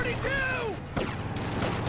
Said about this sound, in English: MG42. Is it really? I think it's an LMG.